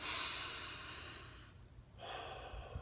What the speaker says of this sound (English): Just a final cleansing breath.